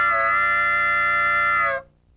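A harmonica imitates a country train whistle, two draw reeds, the 5th and 6th, sounding together as one sustained, close, loud chord for almost two seconds before cutting off into silence.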